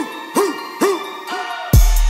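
An owl-like bird hoots in a regular series of four short, arching calls, clear and fairly close, before a sudden heavy low thump cuts in near the end.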